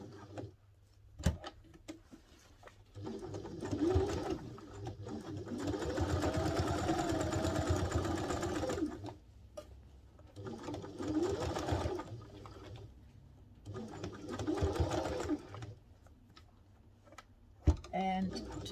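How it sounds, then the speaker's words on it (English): A sewing machine stitches a flap onto a messenger satchel bag in steady whirring runs of a few seconds each, separated by pauses, with a person talking softly between and over the stitching. "You put your needle down and you sew the flap on."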